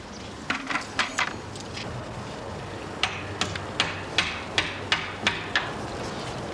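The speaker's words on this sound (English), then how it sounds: "the hammer had to fall down the shaft." A hammer falls down a shaft in a series of sharp metallic clanks, first a few close together, then a steady run of evenly spaced knocks, like something striking as it drops.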